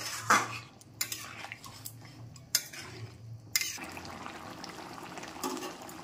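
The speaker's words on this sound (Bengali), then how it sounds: "তারপর এটা ভালো করে মিশিয়ে নিয়ে আরো 3-4 মিনিটের মতো আমি ফুটতে দেব।" Kadai chicken stirred in a pan with a metal spoon, sharp clinks and scrapes against the pan at uneven intervals over a low bubbling simmer, close by with no talking.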